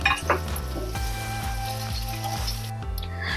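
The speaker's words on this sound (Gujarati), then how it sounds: "આપણે હવે કાજુ અને પનીર બંને સાંતળાઈ ગયા છે, આવા બ્રાઉન કલરના થઈ ગયા છે." Cashews and paneer sizzle and fry in a pan, a steady crackling hiss with a few metallic clinks and scrapes from stirring near the start, close and continuous throughout.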